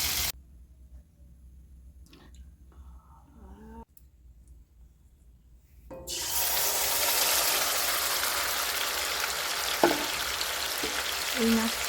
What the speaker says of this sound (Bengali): কড়াইতে তেল দিয়ে পেঁয়াজটা ভেজে নেব।